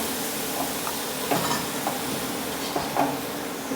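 Spices and potatoes frying in oil in a home kitchen pan, a constant close sizzle broken by occasional soft scraping knocks as the mixture is stirred.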